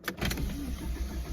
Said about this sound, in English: this is me being able to turn on a car without it plugged in